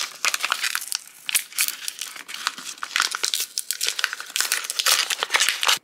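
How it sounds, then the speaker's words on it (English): A plastic toy packaging bag is crinkled and torn open up close, giving dense, continuous crackling and rustling bursts with no speech. "let's open up another bag"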